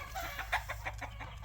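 Guinea fowl fuss and complain nearby in a quick series of short, harsh squawking calls over a steady low hum, with no one speaking.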